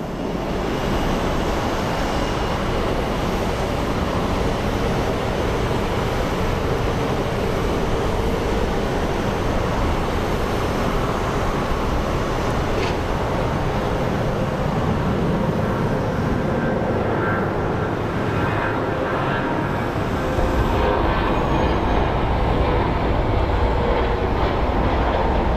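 Jet airliners roll and run their engines at Phoenix Sky Harbor Airport, giving a steady, loud, broadband roar that holds for the whole span with no talk over it.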